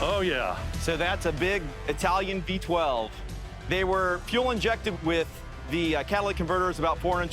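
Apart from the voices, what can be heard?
No everyday noises stand out.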